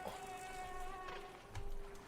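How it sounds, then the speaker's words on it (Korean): A mosquito-like insect buzzes in the video game Limbo, a faint, thin, steady whine that hangs for a couple of seconds against a quiet background. "모기 같은 게 있는데"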